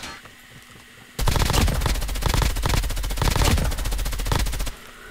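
Rapid automatic fire from an MSMC submachine gun in Call of Duty Mobile, a dense close burst of about three and a half seconds that starts abruptly and cuts off, with quieter game ambience before and after.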